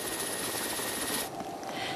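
A helicopter rescuing snowed-in drivers in northern Serbia roars steadily close by, its loud rotor and engine noise filling the whole stretch before easing slightly near the end.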